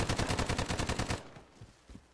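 Light machine gun in a video game fires a rapid, steady automatic burst of roughly a dozen loud, close shots for about a second, then stops, leaving faint scattered thuds.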